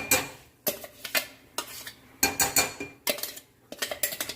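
Spoon stirring onion-tomato masala for mutton curry in a pan, a series of scraping, clinking strokes in uneven bursts with short pauses, close and fairly quiet, with no talk.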